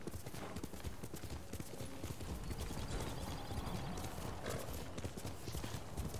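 Horse hooves clip-clop steadily in Ghost of Tsushima, a continuous rhythmic trot of in-game footfalls with an occasional whinny, set against a dense ambient background with no talking.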